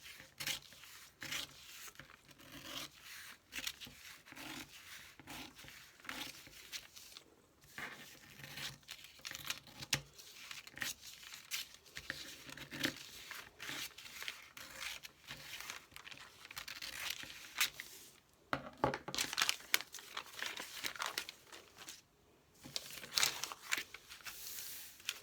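Scissors cut through paper ephemera for grungy book corners, a steady run of close rasping, tearing snips and crinkles that comes in dense bursts and has no speech over it.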